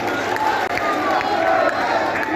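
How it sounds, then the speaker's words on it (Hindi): Crowd at a political rally cheering and clapping together, a loud continuous roar of voices mixed with applause filling the whole stretch. "इनके लिए भी ताली तो बनती है"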